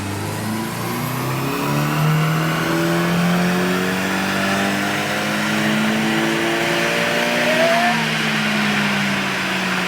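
Nissan 180SX on a dyno run at 18 PSI boost, engine revving up in one long rising pull, loud and close, then easing off near the end, with no talk over it.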